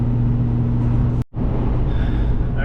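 Inside a hotshot truck on the road, a steady low engine drone and road rumble run throughout, broken by a brief cut near the middle.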